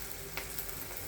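Spices and salt frying in a pan for Mumbai-style ragda, a dense continuous sizzle with a couple of quick scraping stirs, close and fairly loud.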